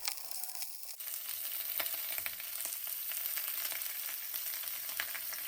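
Mutton pieces fry in hot rendered fat inside a karahi, a loud, steady sizzle that surges just after the meat goes in and keeps crackling densely throughout with occasional pops and stirring clatter.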